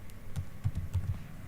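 Typing on a computer keyboard while writing TypeScript code, a quiet run of soft, irregular key taps close by, with no talking.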